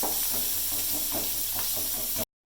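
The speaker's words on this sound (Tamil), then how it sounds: "இந்த வெங்காயம் கொஞ்சம் நல்லா கிளறிட்டு அப்புறம் இந்த காய்கறியெல்லாம் போட்டு கிளறணும்." Onions sizzle in a hot pan for vegetable kurma, a constant close frying hiss with soft repeated knocks of stirring, cutting off abruptly near the end.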